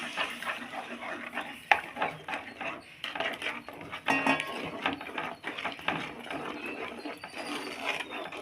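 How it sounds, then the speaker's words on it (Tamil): Urad dal flour stirred into oil in a pan, producing irregular scraping, knocking and rubbing strokes of a spoon against the vessel, close and fairly quiet, with no speech. "இப்போ இதில் இந்த மாவை போட்டு கொஞ்சம் கொஞ்சமாக கிளறிடலாம்."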